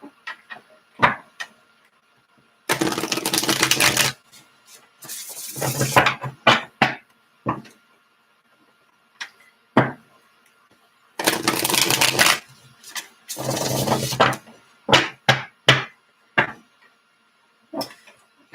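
Tarot cards being shuffled in several crisp, riffling bursts, separated by quieter taps and handling noises, close up with no talking.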